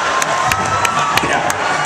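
Audience at a Conan O'Brien monologue in Eugene, Oregon cheers and whoops loudly, a dense crowd roar with sharp rhythmic claps cutting through.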